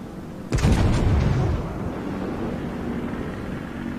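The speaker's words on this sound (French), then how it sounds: "quand on vise avec le Kongu, que les obus se croisent et partent en louchant" Battleship Kongo fires a main-gun salvo in the naval game World of Warships, a sudden heavy boom followed by a rumbling roar that fades slowly into steady background noise.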